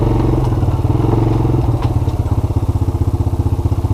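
A Honda FourTrax TRX90 ATV's small engine runs close by, a loud, rapid, pulsing putter with clattery knocks, its rhythm becoming more distinct and evenly throbbing toward the end.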